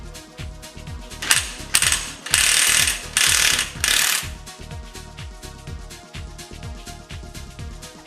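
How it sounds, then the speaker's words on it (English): Special nut puller working loose the primary gear nut on a Bajaj Pulsar 200 NS motorcycle, giving a rapid run of sharp metallic ratchet clicks with a few louder grinding bursts, close and without talk. "using the special nut puller, loosen the primary gear nut."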